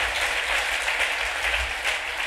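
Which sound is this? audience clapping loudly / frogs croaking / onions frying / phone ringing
audience clapping loudly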